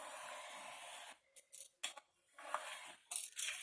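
Scissors cut paper while a polygonal domed box is being made, a steady snip that stops and then gives way to several short, quiet snips and crinkles, close up and alone.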